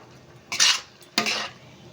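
A spoon stirring thick, drying chyawanprash mixture in a pan, heard as two distinct scraping strokes close by with a brief pause between them, then quiet; nobody speaks.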